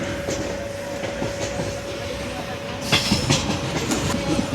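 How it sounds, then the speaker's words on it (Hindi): Zakariya Express passenger train running on rails during a hot-weather journey, a steady rumble with rhythmic clickety-clack of wheels over rail joints, growing louder and busier after a few seconds, with no talking. "ज़करिया एक्सप्रेस जिस तरह अप्रोच बना रही है"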